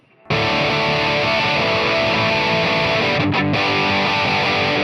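A heavily distorted electric guitar through a distortion plugin rings out, sustained and loud, with a thick buzzing tone that holds steady before briefly cutting out near the end.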